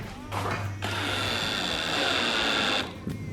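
A cordless drill drives screws into wall plugs, a sustained whirring motor run of about two seconds with short bursts before and after, with people talking around it.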